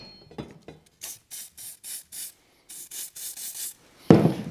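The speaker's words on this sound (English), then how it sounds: "So I'll just give that a little spray." Copper grease spray applied in short bursts to a bolt thread on a Qualcast lawn mower blade, about ten close, evenly spaced hissing puffs after a few clicks, ending in a louder rustling clatter.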